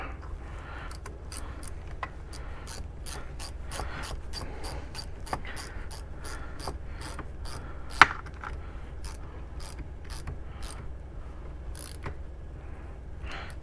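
A ratcheting T15 Torx driver tightens a shift slider back into place, giving rapid, evenly spaced small clicks over a steady low background hum, close and fairly quiet.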